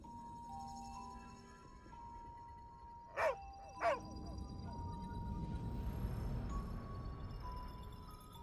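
Two short, clear barks from Laika, the astronaut dog in the video game Little Orpheus, ring out close together over a soft bed of game music and ambient hum.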